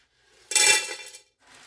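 Dry pinto beans are raked and shuffled by hand in a container, one loud rattling, rasping sweep followed by a fainter scrape, close and without talk.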